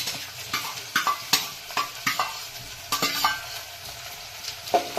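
Onions and tomatoes frying in butter in a pan, stirred with a utensil in a steady rhythm of sharp scrapes and clicks over a continuous close sizzle.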